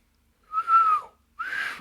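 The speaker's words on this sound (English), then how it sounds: "Amir will whistle." A character in the video game Assassins of Kings whistles loudly in two clear notes, a long sustained tone followed after a short pause by a shorter second one, against silence.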